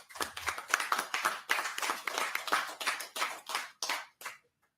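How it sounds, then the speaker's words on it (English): A small group claps for Minister Henry in a brief round of applause, close and distinct hand claps that thin out and stop after about four seconds. "And I ask us to give him an applause."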